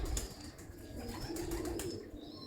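Pigeons kept by a fancier, with soft cooing and a few wing flaps close by over a low outdoor background hum.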